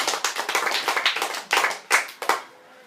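Brief clapping from a high school debate audience welcoming a debater, busy claps at first that break into a few scattered last claps.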